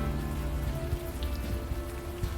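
Steady rain falling in the point-and-click adventure game Unavowed, a dense, even hiss of drops on surfaces with a low rumbling bed, continuous and close throughout, with no voices.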